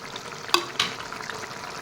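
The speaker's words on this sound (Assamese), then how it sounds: "মাছকেইটা দিলাম ইয়াতে" Kawai fish dropped into a bubbling curry of eggplant and tomato, two sharp close splashes a quarter second apart over a steady low simmering hiss.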